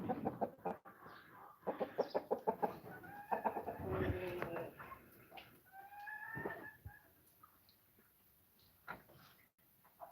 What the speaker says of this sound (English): That's my short-legged Scott Stumpy rooster.